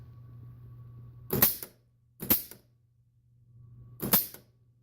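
An air shifter solenoid on a 2009 Suzuki Hayabusa snaps on at each button press: three sharp, loud clicks at uneven intervals over a steady low electrical hum.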